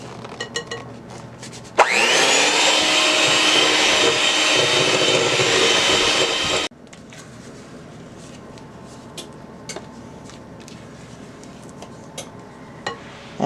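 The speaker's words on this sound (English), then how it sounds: "let's take my blender on low" A blender run on low speed mixes flour into butter lemon pound cake batter, giving a loud, steady whirring drone for about five seconds. It then cuts off abruptly to quiet kitchen sounds.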